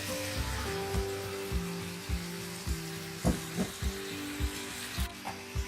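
Potatoes and eggplant sizzling in a pan with roasted green chilies, a soft steady sizzle broken by regular knocking taps of stirring about twice a second, with a low hum underneath.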